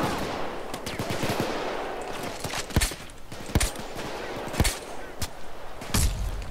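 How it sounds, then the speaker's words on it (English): Gunfire in a Payday 2 heist, with repeated sharp shots and short bursts cracking over a steady background din of action, fairly close and loud. "Who's shooting?"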